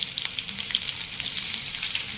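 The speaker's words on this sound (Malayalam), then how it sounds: "ഇനി അതിലേക്ക് നമുക്ക് ഉള്ളി, അത് വറക്കാനുള്ള ഉള്ളി," Onions fry in coconut oil, a steady bright sizzle with scattered small pops and crackles throughout.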